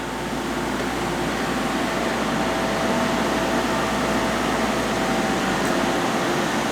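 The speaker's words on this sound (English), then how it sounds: "Doing some thread milling right now for a half 13 bolt." CNC machine thread milling a half-13 bolt hole into a pallet in a home machine shop, a steady continuous whir with faint tonal lines and broadband hiss, constant and unbroken throughout.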